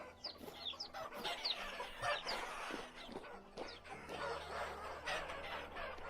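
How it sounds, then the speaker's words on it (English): A flock of chickens in Vintage Story clucks and squawks continuously, many overlapping calls at close to middle distance, moderately quiet with no talk. "In the meantime, I leave you with an army of glorious chickens."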